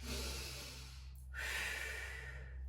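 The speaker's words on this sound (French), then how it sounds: "On inspire par le nez et on expire par la bouche." A slow breath drawn in through the nose, a brief pause, then a longer exhale out through the mouth, close and soft, as part of a relaxation and stress-release breathing exercise.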